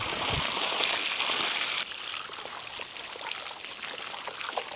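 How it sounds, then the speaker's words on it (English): Water poured into a paint tank, a steady broad splashing rush for nearly two seconds that then drops to a quieter, thinner trickle with scattered drips, close and alone without talk. "we'll put some water in that tank and we'll run it through"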